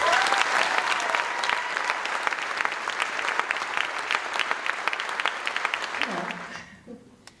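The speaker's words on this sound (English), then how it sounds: "Help me give a big round of applause to Hannah Halo Richards" Audience at a live stage show in Los Angeles applauding a performer, with loud sustained clapping from a large crowd that fades out near the end as a voice begins speaking.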